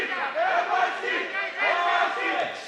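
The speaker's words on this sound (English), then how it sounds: "So you hear the crowd," The crowd at a team fight league bout between NYC Attitude and Boston roars and yells in surging waves, a loud mass of cheering voices that swells and dips near the end of the fight.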